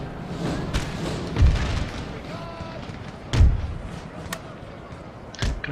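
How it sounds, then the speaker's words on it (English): Booming artillery fire in Napoleon Total War, two heavy thuds a couple of seconds apart with a third fainter one, over a steady battlefield rumble and murmur. "Let's retarget our artillery onto these guys."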